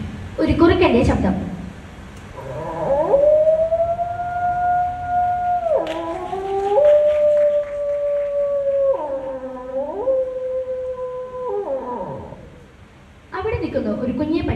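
On a stage, a mimicry artist imitates a fox howling with long, sustained wavering wails that bend down and up in pitch, framed by brief crowd noise at the start and end.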